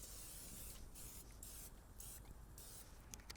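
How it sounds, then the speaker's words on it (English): Non-stick oil spray hissing into a camp mess-kit skillet in short bursts, close and fairly quiet, several pulses of steady hiss separated by brief pauses. "I'm going to spray down the inside of our skillet here with a little bit of this non-stick oil spray"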